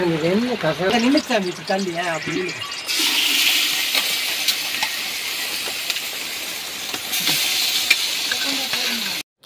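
Onion, ginger-garlic paste, mint and tomato frying for biryani over a wood fire in a forest, a loud continuous sizzle and hiss that follows a few seconds of talking.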